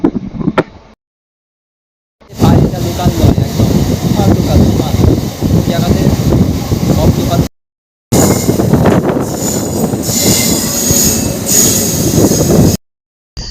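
A Howrah to Haldia special train running on a loop line, with loud continuous rumbling and wheel noise close by, broken by short silent gaps.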